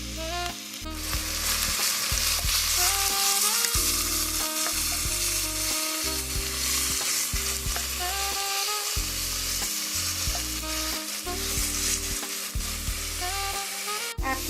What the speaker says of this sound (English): Now I'm going to add in my onion. We're going to saute that